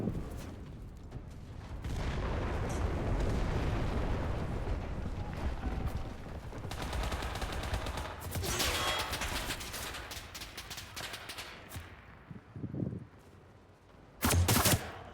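Tank shell explosions and gunfire in a World War battlefield video game, a dense, sustained roar of shooting and blasts with louder bursts near the end, heard without speech.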